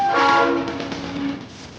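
A model train rumbles past close by at the Rosenberg railroad museum, with a short whistle-like tone over the rolling clatter, fading as it moves off.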